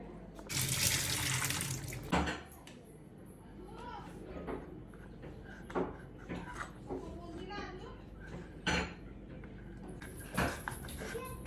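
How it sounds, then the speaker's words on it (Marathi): Raw mangoes rinsed under running tap water at a kitchen sink, with a loud splashing burst at the start and then intermittent water and handling clatter, while someone talks throughout. "आता आपण हे कैरी स्वच्छ धुवून घेऊ"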